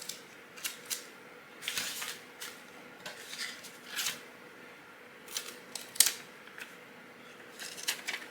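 Scissors snip apart a small craft hat topper for a snowman ornament, a series of short, crisp cuts in uneven bursts with brief pauses between them, close and fairly quiet, with no talking.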